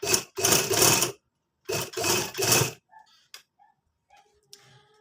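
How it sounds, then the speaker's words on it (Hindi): A sewing machine stitches lace and corded piping onto the front of a kameez, with two loud whirring runs of about a second each, followed by quiet scattered clicks and handling sounds. "इसके ऊपर किनारी की सिलाई लगाते जाएंगे"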